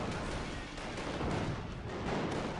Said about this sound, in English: this is when artillery is going to be used